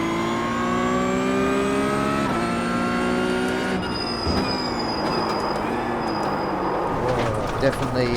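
Porsche GT3 Cup race car engine in iRacing, steady high-revving drone with harmonic lines shifting through gear changes, a downshift dip near the middle, heard close and continuous while a voice talks over it.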